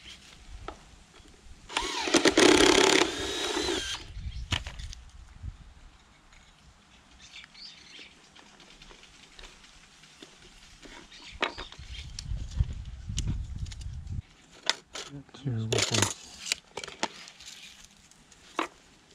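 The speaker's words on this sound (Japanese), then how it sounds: "コンパスで描いたところを今ジグソーで切ってます" A jigsaw cuts a hole in a plywood board laid over colonial roofing for a wood stove chimney. It gives a loud, buzzy burst of a couple of seconds, then a brief second burst, with quiet outdoor gaps and faint birds between.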